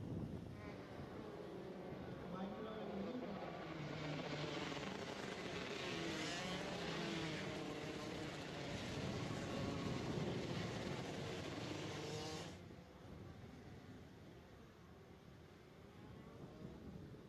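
125 Shifter Limited karts racing on track, a blended engine drone with rising and falling whines from several machines at a distance, loud and continuous before dropping to a quieter hum near the end.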